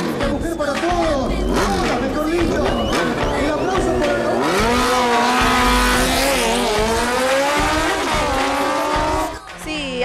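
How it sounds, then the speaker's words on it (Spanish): A motorcycle rides on a racetrack, its engine whining loud and close with rising and falling pitch as it shifts and accelerates, continuous for about ten seconds. "estoy probando la moto de mi papá acá en el autódromo"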